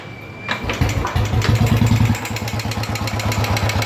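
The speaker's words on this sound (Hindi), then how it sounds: "इसमें कुछ तो प्रॉब्लम है इंजन में, जो अलग टाइप का एक साउंड आ रहा है" Royal Enfield Bullet Electra 350 single-cylinder motorcycle engine with a tapping fault, starting up and settling into a steady, loud, close thumping idle with a rapid rhythmic ticking beat running through it.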